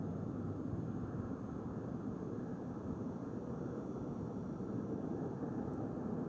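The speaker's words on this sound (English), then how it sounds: "And now there's another airplane. It's flying out here on the right side direction." An airplane flies by at a distance at night, a faint, steady broadband engine drone that holds evenly throughout with no other sounds.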